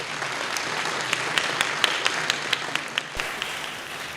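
Conference audience at an Electrochemical Society plenary session applauding past division chairs, giving dense, steady clapping with a few sharper individual claps standing out near the microphone.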